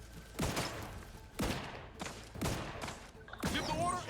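Four bursts of gunfire spaced about a second apart in The Outer Worlds 2, each a sharp crack with a decaying tail, moderately distant amid a combat scene.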